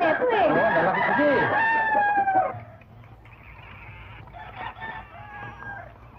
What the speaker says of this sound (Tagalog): Ang tatakaw nito mga manok na ito eh.